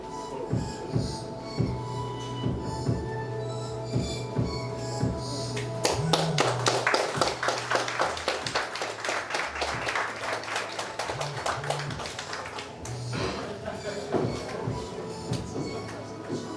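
Audience applause at an indie open-screen event: a dense, sustained burst of many hands clapping swells in the middle of the stretch, then fades back to quieter room sound.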